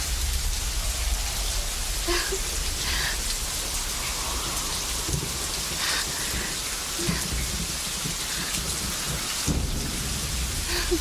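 Steady rain pours down with the constant hiss of drops on surfaces, while low rolls of thunder rumble through it over the whole stretch.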